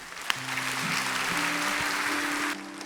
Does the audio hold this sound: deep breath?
no